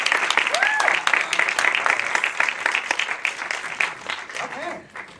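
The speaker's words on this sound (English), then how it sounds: "So a round of applause for all the amazing films." Audience applause for a set of films at a festival Q&A session, a dense, steady wash of clapping that carries on for several seconds, with cheers and voices mixed in, before it thins out and fades near the end.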